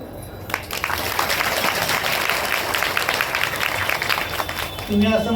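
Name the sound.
audience clapping at a kirtan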